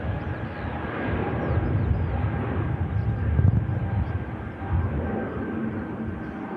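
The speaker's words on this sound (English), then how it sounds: "There goes the Neo on the return to Stockholm" Airbus Neo airliner departing for Stockholm, a broad distant engine roar that swells slightly and holds steady, heard alone without talking.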